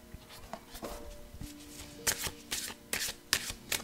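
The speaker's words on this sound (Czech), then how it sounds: "Já si tu zamíchám karty." Playing cards being shuffled up close, a run of crisp riffling bursts and soft slaps that grow louder and quicker toward the end.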